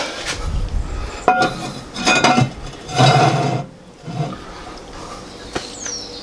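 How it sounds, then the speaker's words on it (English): About 500 ml of water pours in several splashing bursts into a goat and chorizo stew pot on a Kamado Joe, with clinks of the pot between pours, close and fairly loud. "And some water, a couple of cups, about 500ml probably, just enough to bring it over the potatoes."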